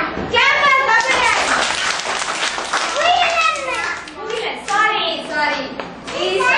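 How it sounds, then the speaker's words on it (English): A group of young children claps for a classmate, with scattered, uneven hand claps mixed with lively children's voices and chatter close by. "Clap for Gogula."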